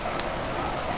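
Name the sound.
raindrops falling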